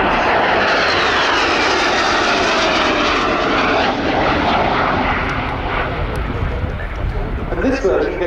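A Spanish Navy EAV-8B Harrier from 1996, flying in a RIAT 2024 air display, produces a loud, continuous broadband jet roar that stays strong throughout and eases slightly as the aircraft passes.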